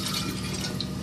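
Lemon juice poured into a container for homemade iced lemon tea, a steady close liquid trickle with faint dripping, continuous through the short moment.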